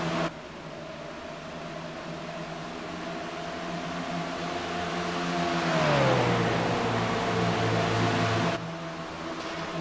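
Race cars in a racing video game circle the Texas track, a steady droning engine whine with layered tones that swell and bend downward midway, continuous and fairly loud with no talk.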